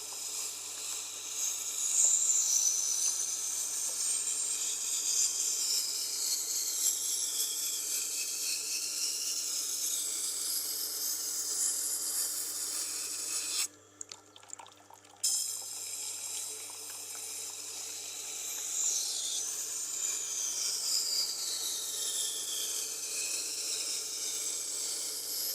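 Continuous water-cooled grinding of a knife on a Tormek sharpener with a Blackstone wheel, a steady wet hiss and whir that drops out briefly midway, then resumes, without talk.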